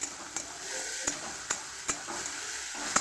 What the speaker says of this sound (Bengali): আমি মশলাটা ভালো করে এবার কষে নেবো বন্ধুরা।